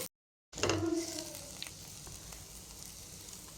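Radish leaf curry sizzling in a hot pan as it is stirred, a soft steady frying hiss with a brief louder burst at the start after a moment of silence.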